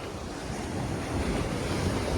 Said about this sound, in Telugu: బీభత్సమైన అలలు దన్న గుద్దుతున్నాయి అనమాట.